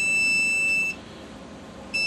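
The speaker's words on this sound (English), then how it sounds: "Now, that alarm will keep going until you address the situation" A sump pump backup alarm sounds a piercing, high-pitched electronic tone steadily, cuts out for about a second, then starts again.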